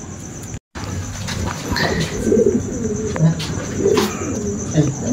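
A champion racing pigeon coos softly in a series of low, throaty calls at a pigeon race event, with background chatter and faint chirps underneath.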